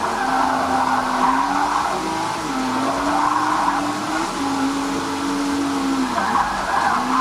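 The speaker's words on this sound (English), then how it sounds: "you can on the fan in the turbo mode" An ASUS ROG Zephyrus S GX502 thin gaming laptop's fan runs in turbo mode, giving a loud, steady, close whoosh of air with a faint wavering whine underneath that never lets up.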